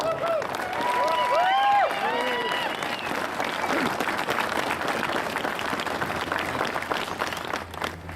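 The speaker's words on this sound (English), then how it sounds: "I want you to give a warm round of applause." Sustained crowd applause fills a rally in Grand Rapids supporting Michigan's 1969 Public Act 312, dense and loud throughout, with some whistles and cheers near the start and a voice over the sound system briefly audible.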